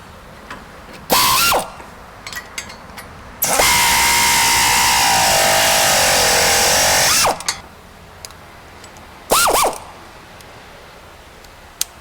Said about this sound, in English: This last bolt's being a bit of a pain in the ass, so I switched to a ratchet because it was stiff as crap in there.